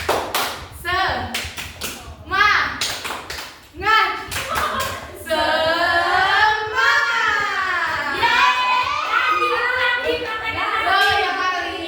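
A primary school class claps the rhythmic 'tepuk semangat' chant: a crisp pattern of grouped hand claps, then children chanting together loudly in unison, close and lively.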